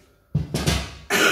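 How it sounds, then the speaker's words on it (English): A person with a lingering, persistent cough lets out a few harsh, close coughs in a quiet kitchen, a short burst followed by another sharp cough. "I'm still lingering with this terrible cough."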